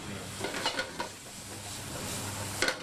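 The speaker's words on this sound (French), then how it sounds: "on les met dans la poêle et on les fait revenir un petit peu à la poêle" Faint steady sizzle of food frying in a frying pan, with a few light clicks and scrapes of stirring over the hiss.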